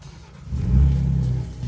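A Gen 3 Ford Raptor fitted with Garrett PowerMax turbos and SPD downpipes starts up, its engine catching and swelling into a deep, close rumble that settles into a steady idle.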